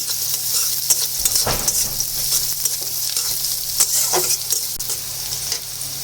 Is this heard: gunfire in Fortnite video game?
no